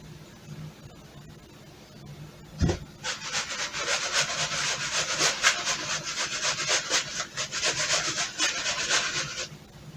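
A knife cuts through an eggplant into big slices: a sharp thunk on the board, then a long sustained rasping saw-like stroke through the flesh, close and moderately quiet without speech.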